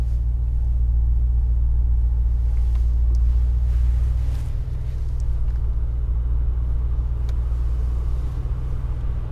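A 2022 Mercedes-AMG G63 G-Class pulling away, its engine a deep, loud, continuous rumble that eases slightly midway, with road noise and no talk.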